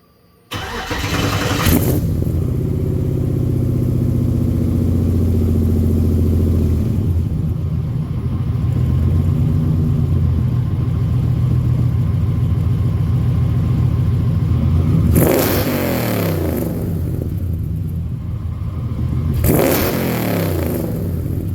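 A 1970 Dodge Super Bee fires up and its tailpipes settle into a loud, steady, deep exhaust rumble close by, with a couple of brief revs near the end and no voices.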